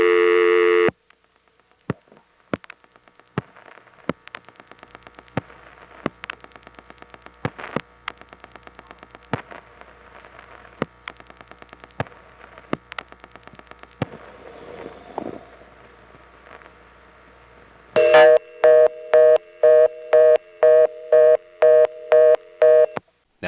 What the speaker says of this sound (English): you know this is a different reorder because the last one we heard went like this